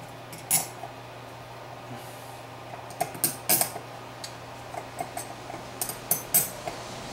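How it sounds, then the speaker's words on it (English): Screws from a 1975 Suzuki TC 185 motorcycle carburetor drop into a container, making a scattered series of light metallic clicks and clinks, close and fairly soft, with a faint steady hum behind and no talking. "throwing these screws in here. This will keep me from losing parts."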